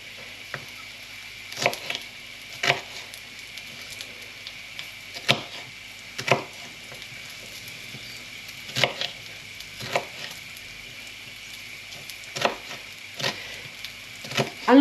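Knife chopping peppers into chunky pieces on a board, a series of sharp, separate thuds in an irregular rhythm, close and clear in a quiet kitchen.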